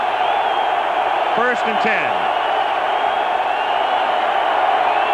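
In a 1986 Rams at 49ers NFL game, the stadium crowd keeps up a constant roar beneath a brief stretch of play-by-play talk.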